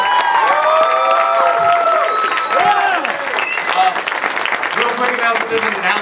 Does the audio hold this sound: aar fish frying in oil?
no